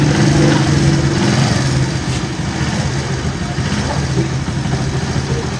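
The engine of a Honda CD70 motorcycle, just assembled, runs at idle with a loud, close, steady putter that eases slightly after the first couple of seconds.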